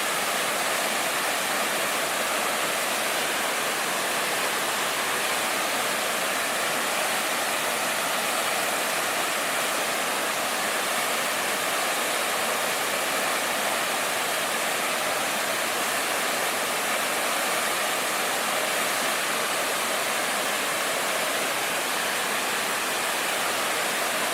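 Steady waterfall roar during an outdoor plein air painting session, a dense, unbroken rush of falling water that stays loud and even throughout, with no voices.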